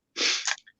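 A single quick, fairly soft sneeze nearby indoors, a sharp burst trailing into a brief breathy tail.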